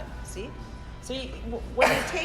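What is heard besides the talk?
sneeze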